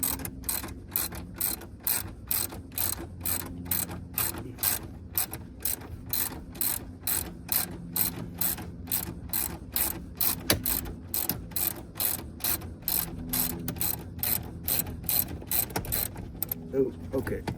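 A hand ratchet backs out the last bolt of a 2009 Chevy Malibu steering column, rapid ticking in steady bursts of clicks, close and loud, pausing briefly near the end.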